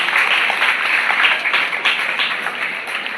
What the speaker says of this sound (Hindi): एक बार सबको ताली बजा के स्वागत करें।